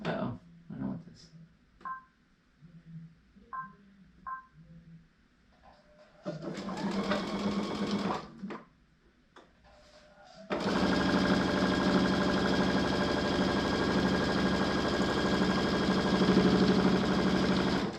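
A sewing machine stitches a quarter-inch seam on an Easter egg wall hanging, running in a short burst and then a longer steady whir, close up, after a stretch of light handling sounds and brief talk.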